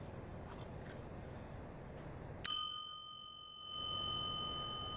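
An antique figural marriage tap bell gives a single bright ring: a sharp metallic strike followed by a long, clear decaying tone, alone amid quiet room noise.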